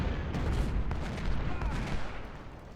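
Cannon and artillery fire from a Civil War battle at Gettysburg in the strategy game Ultimate General: Civil War, a steady rumble of booms and distant gunfire rolling continuously throughout.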